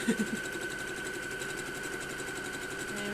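A sewing machine runs noisily with a continuous mechanical whir and a faint rattling vibration, steady and moderately quiet throughout, a few light clicks at the start.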